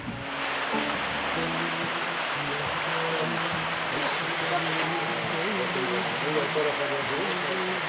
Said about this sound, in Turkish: Yağmur sesi ve toprağın mis gibi kokusu eşliğinde.